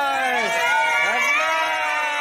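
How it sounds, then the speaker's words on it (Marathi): A crowd of boys at a boat festival shouts and cheers together in a loud, sustained roar of overlapping voices with rising and falling whoops. "फुल एन्जॉय जल्लोष"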